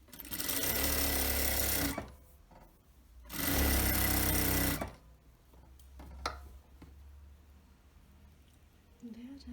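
Sewing machine stitching a seam on a kimono-style robe in two loud, steady bursts of about two seconds each, close by, followed by quieter handling of fabric.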